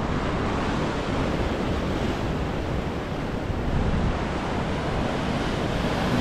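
Ocean surf rolls and breaks steadily at Imperial Beach in San Diego, a dense continuous wash of waves with wind noise buffeting the microphone throughout.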